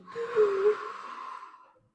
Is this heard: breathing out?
yes